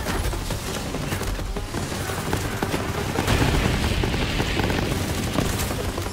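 Launcher fire from Borderlands 3 pours out as a dense, continuous barrage of blasts and gunfire, loud and steady throughout, growing heavier partway through.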